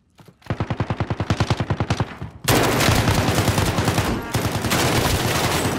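Gunfire in Call of Duty Modern Warfare Warzone: a rapid burst of evenly spaced loud shots gives way to a dense, sustained roar of heavy automatic fire with no pauses.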